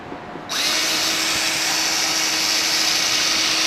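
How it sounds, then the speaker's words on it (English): A power drill on its lowest speed setting, used to restore headlights, whirs steadily after a brief quiet start, holding a constant, fairly slow motor hum with a high whine, loud and close throughout. "I've got this drill on speed 1"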